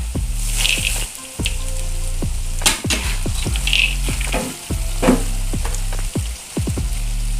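Peanuts, anchovies and tempeh fry loudly in a pan with an oily sizzle, broken by repeated scraping strokes and knocks of a spatula as the mix is stirred, close up with no talking.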